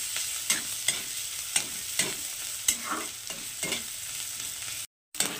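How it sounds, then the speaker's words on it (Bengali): Grated ginger and garlic fry with onion in a pan, a soft background sizzle broken by sharp, regular stirring scrapes about twice a second, briefly cut off near the end, with no speech. "তো আদা রসুনটাকেও আমি এখন এর সঙ্গে একটু ভেজে নেব"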